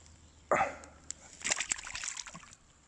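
A small carp, about 20 cm, is released back into the water with a sharp splash, followed by a second burst of sloshing and splattering that trails off, close by in a quiet outdoor setting.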